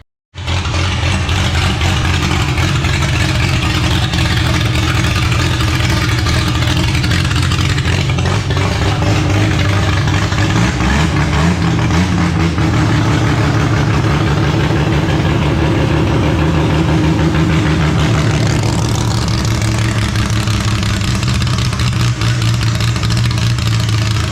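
A tough Holden grey motor from a HAMB-style dragster idles loud and close as it warms up, with a rough, lumpy, continuous rumble and slight shifts in pitch throughout.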